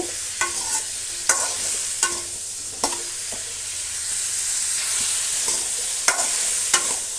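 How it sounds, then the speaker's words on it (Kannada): Bitter gourd frying in oil while being stirred, a constant bright sizzle broken by sharp, regular scrapes and taps of a spatula against the pan, close and clear with no talking. "ಚೆನ್ನಾಗಿ ಆಯಿಲಲ್ಲಿ ಫ್ರೈ ಮಾಡಿಕೊಂಡ್ರೆ"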